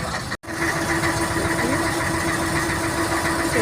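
Boat engine running out at sea off Alexandria in winter, a steady loud droning hum with a constant low throb, continuous apart from one brief cut near the start.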